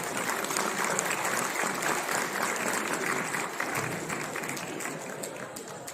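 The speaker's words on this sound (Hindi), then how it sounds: "तो जोरदार ताली से प्लीज लेट्स वेलकम हिम" Sustained applause from an audience at a university event marking Swami Vivekananda Jayanti and National Youth Day, greeting the arriving minister; dense, steady clapping fills the room for several seconds, easing slightly toward the end.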